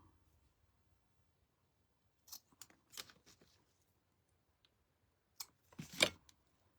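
Scissors snipping yarn strands short for a reindeer ornament craft: a few faint, crisp cuts in two small clusters against near silence, with no talking.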